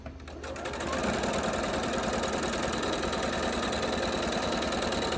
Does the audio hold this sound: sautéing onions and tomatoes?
no